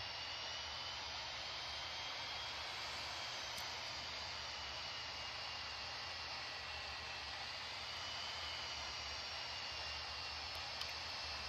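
Boeing 737 MAX 8 jet engines in Real Flight Simulator roaring steadily at takeoff power, a constant broadband rush with a low rumble, even and unbroken for the whole stretch.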